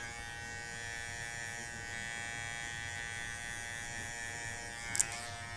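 An electric hair clipper hums steadily throughout a haircut, a constant close buzzing with a brief sharp rattle near the end as it meets the hair.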